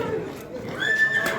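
A horse at a horse market gives a short neigh amid nearby talk, a brief whinny rising above the background chatter of the market.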